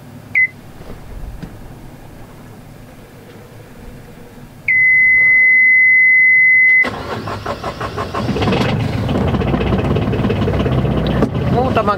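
A sailboat's inboard engine on a trip to Adventure Bay cranks, with a steady beep from the panel, then catches after a few turns and settles into a loud, continuous running rumble.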